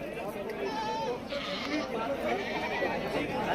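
Goats and sheep bleat at a busy goat and sheep market in Shirur, Maharashtra. Several wavering cries rise over a dense backdrop of crowd chatter and talking voices.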